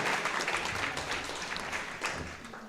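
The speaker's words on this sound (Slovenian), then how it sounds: "Tako en aplavz, prosim." An audience at a business round-table event applauds steadily, a dense, moderately loud wash of clapping filling the room throughout.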